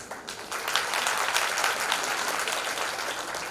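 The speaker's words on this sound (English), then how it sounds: "Come on, parents, cheer them up." Parents clap steadily after a school performance, a dense, sustained wave of applause filling the hall without a break and holding at an even level to the end.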